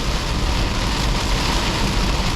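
Heavy rain pounds a BMW E46 320i while it is driven, a dense, steady roar of water on the car with road and engine noise underneath, loud and continuous throughout.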